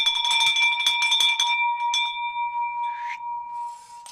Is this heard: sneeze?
no